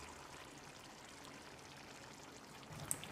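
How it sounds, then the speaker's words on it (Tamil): Thick ground masala paste poured into a pot of simmering Kerala-style chicken curry, a steady soft wet pouring wash with a brief heavier plop near the end. "இப்போ இதில் நம்ம அரைச்ச பேஸ்ட்டை ஊற்றிடலாம்."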